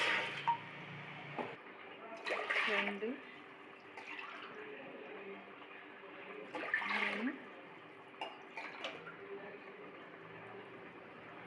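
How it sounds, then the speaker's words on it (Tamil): Water poured from a tumbler, cup by cup, into a cooking pot while making ragi kali, with a few splashing pours under a voice counting aloud. "4 கப் தண்ணி வச்சுக்கிறோம்."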